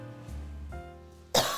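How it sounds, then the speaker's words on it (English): A single sharp cough bursts out loudly near the end after a stretch of quiet low rustling, no speech alongside. "Sorry for the cough."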